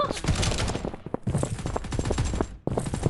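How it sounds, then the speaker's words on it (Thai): Gunfire rattles in a Mini World Royale battle: rapid bursts of shots layered over one another, loud and dense, with two brief pauses. "ยิงฉันอยู่ มาช่วยฉันเร็ว"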